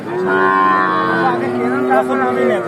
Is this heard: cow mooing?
yes